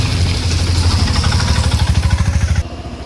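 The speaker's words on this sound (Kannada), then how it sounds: "ಈ ರಸ್ತೆಯಲ್ಲಿ ಕೂಡ ಬೈಕ್ ಸವಾರರು ಬರ್ತಾ ಇದ್ದಾರೆ." Motorcycles approach along a rough rural road, their engines chugging with a steady pulsing throb that builds, then drops away abruptly near the end.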